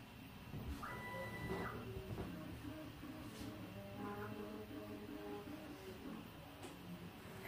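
A Prusa XL 3D printer runs a print job with a quiet mechanical hum and soft stepper-motor whines that rise and fall, a few brief tonal motor runs standing out against faint background machine noise.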